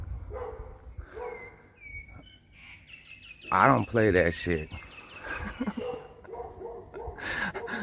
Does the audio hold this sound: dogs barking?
yes